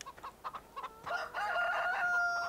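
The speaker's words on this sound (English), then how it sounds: "Check out the chicken." Chickens in the farming video game Farming Simulator 2013 cluck in short, rapid bursts, followed by a drawn-out crowing call with sustained tones, fairly close and with no talk over them.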